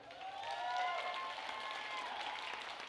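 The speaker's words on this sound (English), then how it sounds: "You can clap" An audience at a school district event in a theater claps steadily, a dense, even wash of applause that swells slightly and holds for a few seconds.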